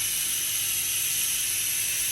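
A travel steam iron gives off a steady, loud, hissing rush of steam, a constant broadband sound with no breaks or talk.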